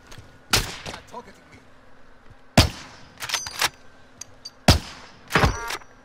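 Sniper gunshots in a shooter video game, four or five sharp, loud single cracks spaced a second or two apart, with some quieter thuds between them.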